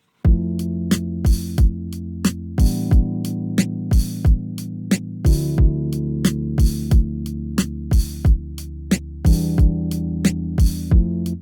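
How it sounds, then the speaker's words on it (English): A looped chord progression with programmed drums from a groove pack plays alone at steady volume, sustained harmonic chords changing every couple of seconds under sharp, evenly spaced drum hits. "this is what the progression and the drums sound like"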